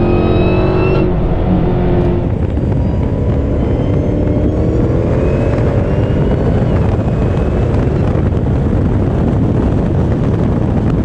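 Car accelerating hard in third gear from about 3,800 RPM, a loud, sustained engine roar rising steadily in pitch as it pulls, with no talking.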